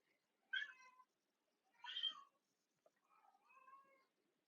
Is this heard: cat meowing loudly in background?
yes